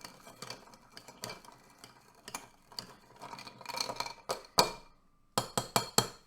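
A spoon stirs an Old Fashioned cocktail in a glass, giving a string of close, irregular clinks and taps that grow brighter and louder toward the end, with no voices.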